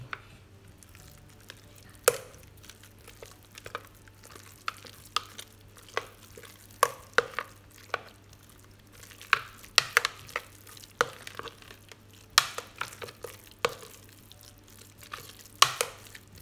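A spoon stirs a thick chicken roulade mixture, with irregular scraping clacks and soft squishing against a pan over a low steady hum.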